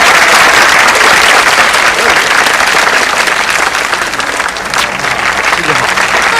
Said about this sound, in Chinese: 来，掌声啊！